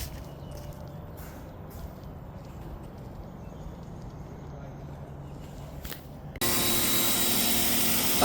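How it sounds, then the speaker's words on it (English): A pressure washer rinsing an animal hospital building wall at low pressure: a quiet stretch, then the spray starts abruptly as a loud, steady broadband hiss. "Now we're using the pressure washer to rinse off with not really high pressure"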